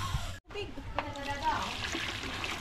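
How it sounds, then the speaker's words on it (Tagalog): Water pours into a cooking pot with a close, splashing trickle that runs on after a brief gap, while a voice and other talk are heard over it. "Yan, nalagyan na po natin ng tubig."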